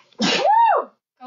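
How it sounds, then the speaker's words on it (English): A single loud, close human sneeze with a sharp breathy burst into a voiced tail, then a faint sound just after. "The sneeze is right there."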